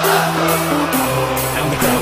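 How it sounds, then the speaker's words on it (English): A football crowd sings loudly and steadily at a DFB Pokal cup match between Preußen Münster and FC Augsburg, with sustained chanting voices and occasional whoops swelling throughout. "And the crowd that sings."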